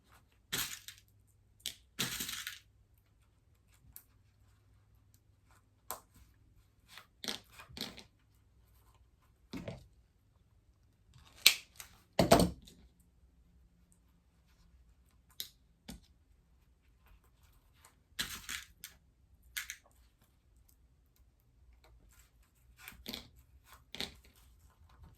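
Rivets being set one by one around the corners of a sewn cork tray, heard as sharp, isolated clicks and snaps spaced several seconds apart, close and fairly loud over a quiet room.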